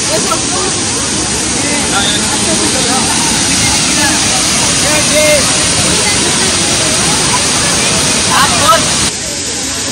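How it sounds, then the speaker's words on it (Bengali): Powerful rushing water from Jharkhand's largest waterfall roars close by in a dense, steady wash of noise, with voices faintly mixed in. "একদম ঝর্ণার সামনে চলে এসেছি, আর বিশাল বড় ঝর্ণা"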